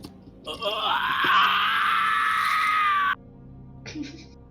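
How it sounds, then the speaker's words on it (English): A man's loud, persistent scream rings out at a distance, a sustained strained wail of about two and a half seconds that cuts off abruptly, followed by a fainter, briefer cry. "off in the distance you hear kind of loud, persistent scream. It sounds like it's coming from a man's voice"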